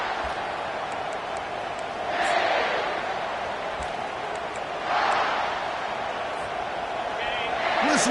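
Football stadium crowd during the early going of a game, a steady broad roar of many voices that swells in loud surges every few seconds, with faint voices in the mix.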